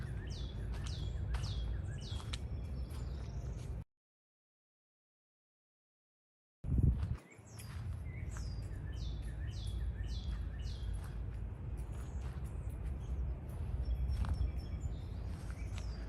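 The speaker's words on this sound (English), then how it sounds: "At the very least, the birds chirping is nice." Birds chirping outdoors at McConnell Springs, a wooded nature park in Lexington, Kentucky: repeated quick high tweets and calls over steady outdoor ambience, broken by a few seconds of dead silence and a low thump.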